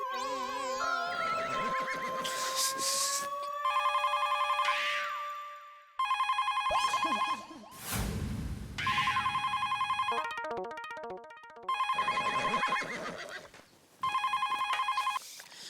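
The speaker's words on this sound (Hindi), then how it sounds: "बदले हुए सिम कार्ड से ही मैंने सुंदर को फोन ठोक दिया।" A melodic electronic ringtone plays in repeated bursts, mixed with a horse whinny and other sound-effect snippets, loud and close, without talk.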